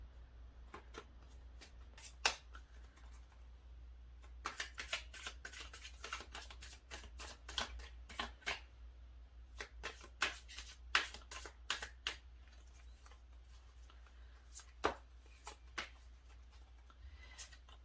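Tarot cards are shuffled for a reading, a series of crisp riffling and snapping bursts close up, irregularly spaced over a quiet background hum.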